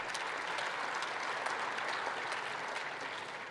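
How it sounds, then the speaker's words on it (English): Sustained applause for Governor Hogan fills a conference hall, a dense steady wash of many hands clapping at even strength throughout, thinning slightly toward the end. "Another round of applause for Governor Hogan"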